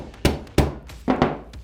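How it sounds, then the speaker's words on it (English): A hammer taps a flathead screwdriver set down the barrel of a cordless post stapler to clear a staple jam, giving four or five sharp, close metallic knocks in an uneven rhythm with no talk. "tap with a hammer,"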